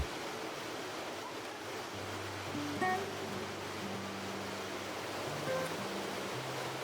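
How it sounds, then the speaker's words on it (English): Chamarel Waterfall in Mauritius, the island's tallest single-drop fall at about 100 meters, gives a steady, dense rushing roar throughout, with soft melodic tones drifting over it. "the stunning Chamarel Waterfall"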